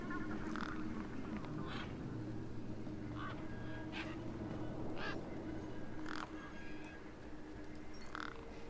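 A large bird in Beyond A Steel Sky gives a string of short, repeated cawing calls at regular intervals over a constant, loud low ambient hum.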